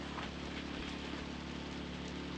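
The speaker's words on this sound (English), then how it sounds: "First time ever having rain since we've done any trips up here." Brief rain shower falling on a boat in the Kimberley region of Australia, a steady even patter of drops over a low engine-like hum, no voices.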